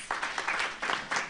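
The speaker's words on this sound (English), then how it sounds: "Can we give her another round of applause, please?" A workshop audience at the South African Human Rights Commission's Fourth Industrial Revolution event gives a speaker a round of applause, a brief burst of many hands clapping, moderately loud and continuous with no voices.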